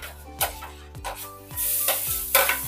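Spaghetti sauce with corned beef being stirred in a pan, a steady sizzle with repeated scraping strokes of the spoon, close and alone with a faint tonal hum underneath.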